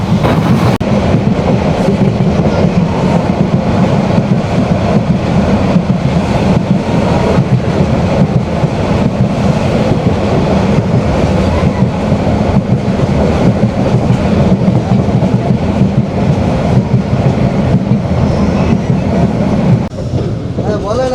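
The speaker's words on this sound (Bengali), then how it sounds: "আমাদের ট্রেন এখন আখাউড়া জংশনে প্রবেশ করতেছে" Riding aboard the Chattala Express as it rolls into Akhaura Junction, a loud continuous rumble of wheels and carriages carries a steady rhythmic clatter throughout, with faint voices now and then beneath the noise.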